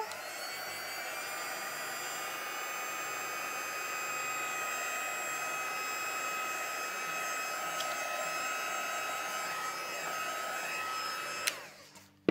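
A heat tool blows steadily over embossed stamped paper during a layered rosebud card project, making a continuous whirring, whining hum that holds for several seconds before clicking off at the end.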